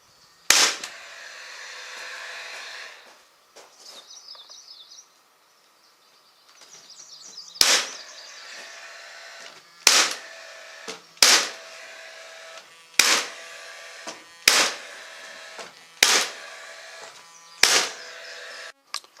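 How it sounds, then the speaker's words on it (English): Paslode nailer driving 18 gauge 1-inch brads into bottom trim: a series of sharp, loud snapping shots about a second or two apart, each followed by a brief mechanical whir, with quiet gaps between. "using the pass load with the 18 gauge 1-inch long brads"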